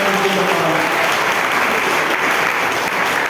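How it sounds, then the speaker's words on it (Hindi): Loud, dense applause from an audience gathered to hear a teacher's talk, a sustained roar of clapping that fills the whole stretch without pause. "ताली बजाओ इस काम के लिए सब लोग, जोर से बजाओ"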